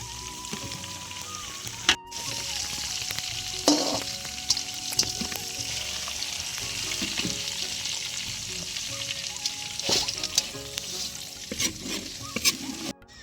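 Onions and tomatoes fry in hot, used oil for a Bengali chicken roast gravy, a continuous crackling sizzle with scattered clanks and scrapes of a spoon against the pan, close and fairly loud, without speech.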